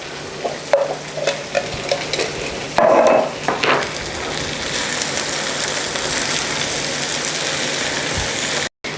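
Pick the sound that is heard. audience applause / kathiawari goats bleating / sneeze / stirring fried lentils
stirring fried lentils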